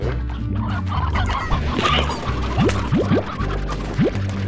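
Chickens clucking in the video game Slime Rancher, a busy flock of repeated short clucks with a few rising squawks, fairly loud over a steady game music bed.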